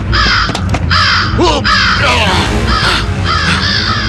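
A crow caws loudly and close, repeating harsh calls several times in quick succession over a dense noisy background.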